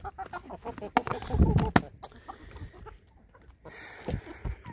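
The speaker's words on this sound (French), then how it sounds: "Y a un coq qu'on mangera pas" Chickens cluck and a rooster among a backyard flock of laying hens calls out in short, fairly close bursts, with quieter scattered clucking and soft outdoor background between.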